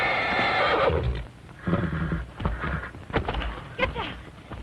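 A horse whinnies loudly several times in shrill, shaky bursts, with hooves and some commotion mixed in between the calls.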